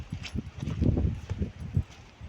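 A horse plods through deep mud, its hooves giving soft, wet, irregular thuds and squelches at close range with no clear talk.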